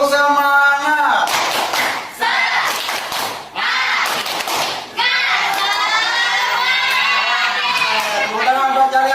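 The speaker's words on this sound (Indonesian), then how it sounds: "Tepuk semangat." A classroom of children performs the 'tepuk semangat' clapping chant, with loud rhythmic claps and shouted chanting voices filling the room close by, broken by a few brief pauses.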